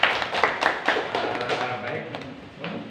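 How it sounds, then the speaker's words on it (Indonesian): A classroom group applauds during a teaching practice session, giving a short burst of close, uneven clapping that tapers off within a few seconds. "tepuk tangan dulu untuk semuanya"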